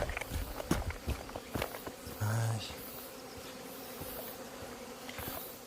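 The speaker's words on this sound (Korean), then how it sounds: "지금 들어오는 말벌들이 좀 빠릅니다." Buzzing hornets fly close by, their droning wings rising and fading over quiet outdoor rustling and faint movement nearby.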